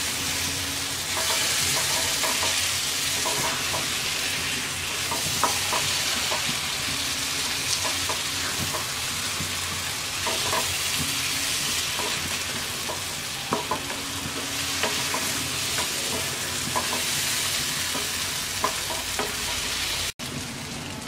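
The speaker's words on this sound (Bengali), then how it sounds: "এবার ভাজা মাছগুলো দিয়ে দিচ্ছি। এবার হালকা হাতে মশলার সাথে মিশিয়ে নিচ্ছি।" Fried hilsa fish pieces are gently stirred into a dopeyaja onion masala in a pan, a continuous loud sizzle with repeated soft scrapes and knocks of the spatula, no voices.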